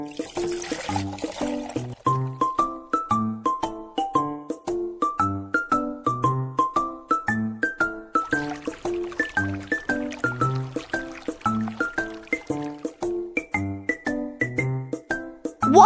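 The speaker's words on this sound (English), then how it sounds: "Pour the rainwater into the filter." Cartoon rainwater poured into a homemade filter of sand and small stones: bubbly, tinkling gurgles in a steady rhythm that rise and fall like a playful tune for the whole stretch, with no talking.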